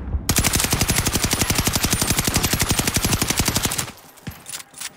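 A KG40 rifle fitted with a bipod fires in the Warzone video game: a loud, rapid, steady automatic burst of evenly spaced shots for nearly four seconds, then a short quieter tail of scattered sounds.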